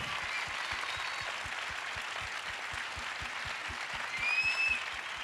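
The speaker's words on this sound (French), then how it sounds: "en s'applaudissant très fort" Audience applause at an evening gathering in the Grande Halle de la Villette, a soft, distant wash of many hands with a faint low steady pulse beneath it.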